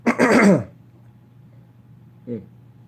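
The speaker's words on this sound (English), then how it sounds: "Let me let me clear my throat." A man clears his throat, a short rough burst near the start, then a brief quiet pause and a faint second throat sound, close to the microphone.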